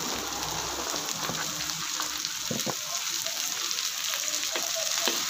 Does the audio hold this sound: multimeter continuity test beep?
no